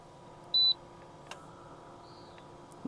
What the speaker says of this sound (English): if you take the induction pan off, it will beep like it just did